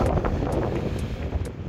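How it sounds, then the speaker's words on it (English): Wind buffets the microphone on a mountain summit in Glen Lyon, Scotland, a loud, continuous rushing roar with gusty surges. "The wind just gets a bit stronger the higher you go."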